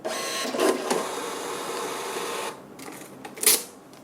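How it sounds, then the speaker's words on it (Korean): A POS receipt printer runs steadily for about two seconds, a buzzing mechanical feed under a click or two, then stops. A sharp snap from the paper tear or cutter follows, with no speech. "본체에서는 영수증이 나오고요. 주방용 프린터에서는 주문 오더표가 출력이 됩니다."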